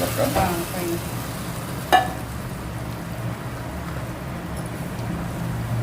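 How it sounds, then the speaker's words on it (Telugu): A cooked gongura chutney mixture added to a hot pan, giving a steady, soft sizzle and frying hiss with a sharp clink of a utensil partway through over a low background hum. "తర్వాత మనం ఉడికించి పెట్టుకున్నాం కదా గోంగూర పచ్చడి ఈ మిశ్రమం వేసుకోవాలి పైన"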